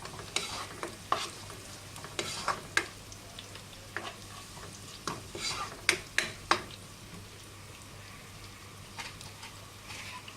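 Chili flakes stirred and frying in a pan while cooking chicken Manchurian, a soft steady sizzle with repeated scraping stirs and light clicks of the spoon, quiet and close with no talk.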